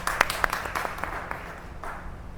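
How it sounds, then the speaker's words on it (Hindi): A church congregation applauding together, a stretch of scattered claps with a few sharper individual hits over a steady wash of clapping that slowly thins out. "जोरदार तालियां हो जाए खुदावन के लिए।"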